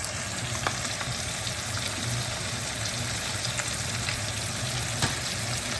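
Steak sears in butter in a pan alongside cooking garlic, giving a steady, close, dense sizzle with a few sharp pops and crackles spread through it.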